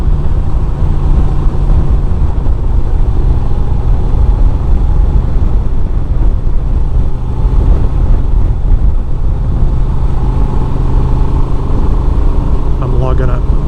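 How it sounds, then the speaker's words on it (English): Honda Transalp 750 adventure motorcycle with a loud, continuous low-end engine and exhaust rumble at steady revs, close to the microphone, with some wind noise. "This bike has a great exhaust sound."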